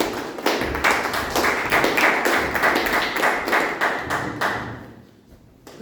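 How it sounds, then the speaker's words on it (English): A small audience at a Toastmasters meeting claps for Toastmaster Kritika, a handful of hands producing distinct, fairly loud individual claps in a loose rhythm that thins out and stops near the end. "Please give her a round of applause."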